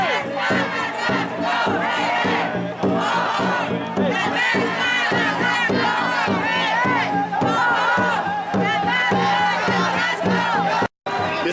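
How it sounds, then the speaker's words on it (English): A large protest crowd outside TCF Stadium in Minneapolis chants and shouts loudly and continuously, a dense wall of raised voices with rhythmic pulses from a rally against the Washington team name. "It's a large crowd already here at the stadium in Minneapolis, Minnesota."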